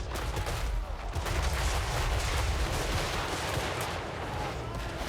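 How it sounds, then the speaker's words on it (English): Dense volley gunfire from a Thunders handgun unit in the video game Total War: Warhammer 3, a continuous roaring wash of overlapping shots and battle noise with no pauses, loud and close throughout. "I guess the enemy is getting some decent volley fire out of this particular unit of Thunders"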